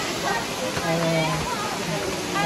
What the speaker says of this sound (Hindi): एक और वाटरफॉल